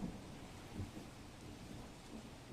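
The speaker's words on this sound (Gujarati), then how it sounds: "આગાહી વચ્ચે વરસી રહ્યો છે વરસાદ" Heavy monsoon rain falls over fields in Gir Somnath, a soft, steady, distant hiss with low rumbling swells, faint and continuous throughout.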